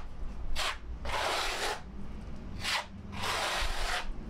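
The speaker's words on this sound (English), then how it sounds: "I'm just spreading an even coat of thin set on the blue primer and then laying the membrane into it." Trowel spreading thin-set adhesive over blue primer for a waterproofing membrane, producing soft, close scraping swipes in four separate strokes that pause briefly between passes.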